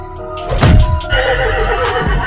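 A horse lets out a loud, close neigh in an animated horror story, a rising then trembling whinny that stands alone with no talking over it.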